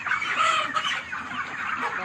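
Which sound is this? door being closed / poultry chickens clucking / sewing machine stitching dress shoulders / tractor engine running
poultry chickens clucking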